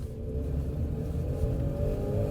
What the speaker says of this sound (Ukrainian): Мотор чути дуже. Мотор чути.